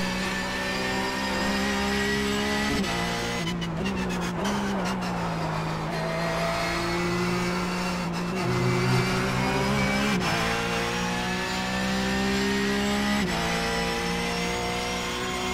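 A Porsche 911 GT3 Cup racing at Road America in a video game, its engine droning steadily and climbing through repeated gear changes, with brief clatter partway through.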